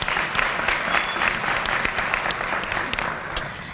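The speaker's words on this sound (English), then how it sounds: "Can I just have like a round of applause for everybody?" Steady round of applause from an audience at a HOSA closing session, dense many-handed clapping filling the hall, even and sustained for a few seconds with no talking over it.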